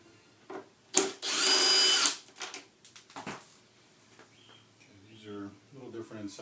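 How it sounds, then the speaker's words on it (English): A power tool whirs for about a second while unscrewing a fairing screw on a BMW K1200RS motorcycle, followed by small clicks and handling noises, close up, with someone talking in the latter part. "So take the bottom screws off first."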